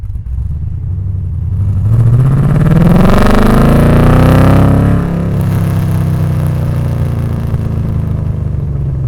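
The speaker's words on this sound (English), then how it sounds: "Turning Concepts welded up a fully custom exhaust for this thing, and it's awesome. It's just the right amount of noise" An LS1-swapped Nissan 240SX with a fully custom exhaust roars up through the revs in a rising, throaty sweep, peaking loud before settling back to a steady rumbling drone.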